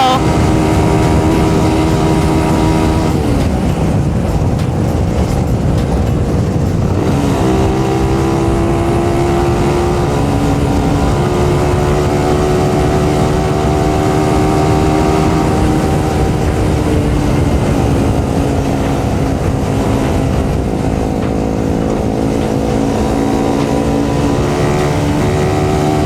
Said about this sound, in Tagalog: Bibilis ng motor nila eh.